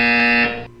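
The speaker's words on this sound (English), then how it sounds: "You will hear a buzzer." A buzzer in the video game Portal 2 sounds as one loud, steady electronic tone with harsh harmonics, holding for about half a second before cutting off, alone without speech.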